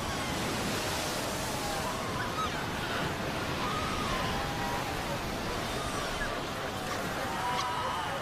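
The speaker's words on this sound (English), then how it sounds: "The pups fight desperately against the onslaught of the waves." Ocean surf washes over a shoreline nursery of newborn seal pups, a steady, dense roar of breaking waves and foam with no clear gaps, moderately loud and continuous throughout.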